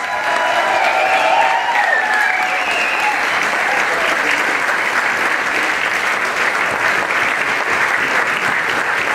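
An audience applauds at a Prague concert of folk string bands with cymbalom, steady dense clapping sustained throughout at close range, with a faint voice underneath.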